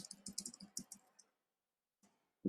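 Fingers tap a computer keyboard in a quick run of close, crisp clicks that stops after about a second, with silence and then one isolated tap near the end.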